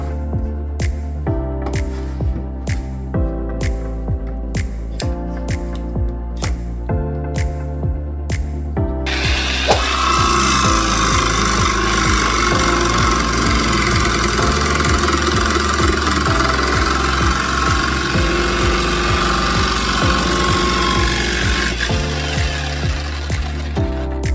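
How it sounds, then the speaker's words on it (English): Clamped reclaimed wood is worked with a power tool, starting with a run of regular rhythmic knocks before a loud, steady whining cut takes over for most of the stretch and then stops. "Now I'm going to clamp it down and cut it."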